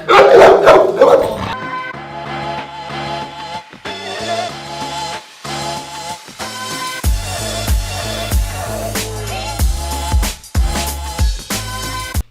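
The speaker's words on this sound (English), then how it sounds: "This dog is very, like one of the most reactive dogs I've ever seen in the life." A reactive dog showing leash aggression toward other dogs barks in repeated loud, sharp bursts, clustered and uneven, over a steady musical bed with no talk.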